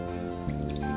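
Three tablespoons of white vinegar splash into a pan holding sugar, giving a brief, close liquid trickle and drip.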